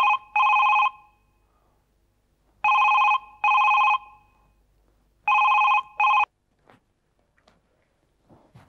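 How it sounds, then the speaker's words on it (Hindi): An old-style telephone rings in three double bursts separated by pauses, clear and close, followed by faint soft sounds, in a Hindi TV drama. "देखो किसका फोन है"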